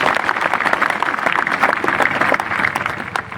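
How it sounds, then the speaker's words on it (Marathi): Dense, steady applause from a large outdoor crowd at a Maratha reservation rally with Manoj Jarange Patil on Ashadhi day, continuous clapping without pause and no voices rising above it. "त्यांच्यासाठी सगळेजण टाळ्या वाजवतात"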